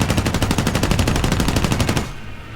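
Rapid machine-gun fire in a War Thunder air battle from a P-40F-10 fighter, a loud, even stream of closely spaced shots for about two seconds, then the fire stops.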